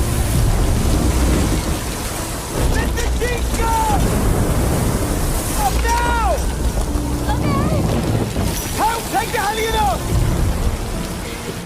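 Heavy rain and rumbling thunder of a storm at sea in a film scene, a continuous dense roar with surging waves, with shouting voices breaking through over the storm.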